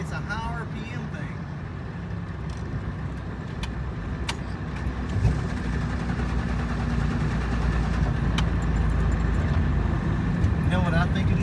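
A car engine held at high RPM during a fault check, droning loudly and continuously with a slight rise partway through, while people talk over it.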